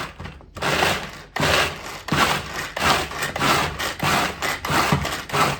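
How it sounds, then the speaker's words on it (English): Pull-cord handheld food processor crushing Oreo cookies into fine crumbs: a steady run of close, loud whirring and grinding bursts that pulse with each pull, broken by one brief pause near the start. "This is a handheld processor where you just have a cord that you pull."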